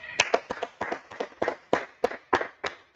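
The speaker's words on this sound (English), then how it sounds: "All right, clap it up" A group at a spiritual gathering claps in unison, about ten sharp, evenly spaced claps in a quick steady rhythm, fairly close and alone.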